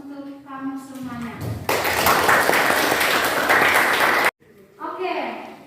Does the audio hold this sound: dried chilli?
no